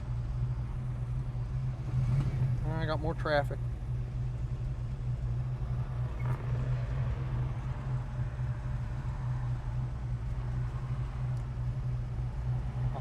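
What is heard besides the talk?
classic car engine idling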